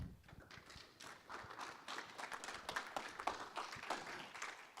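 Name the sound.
muted audience applause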